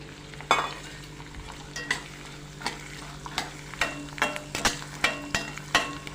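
Chana dal roasting in a pan for a South Indian tamarind rice, with a spoon scraping and stirring in repeated sharp strokes over a soft, continuous sizzle, close by, with no voices.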